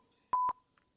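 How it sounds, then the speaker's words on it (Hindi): Two quick, clear touch-tone beeps from a phone keypad, close and clean, followed by a faint third click against near silence. "हम कमिश्नर को फोन लगाएंगे बस"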